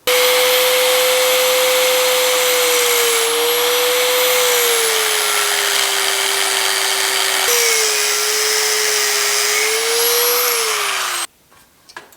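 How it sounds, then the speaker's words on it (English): A loud, steady high-pitched whine of an abrasive cutoff wheel cutting through metal rivets on a GTO door, pitch dipping slightly under load, then abruptly stopping. "We're going to take the cutoff wheel and just kind of cut."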